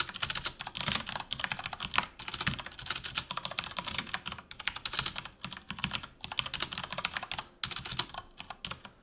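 Typing on a computer keyboard while writing a basic C++ program, a close, dense run of rapid key clicks in irregular bursts with brief pauses, no voice.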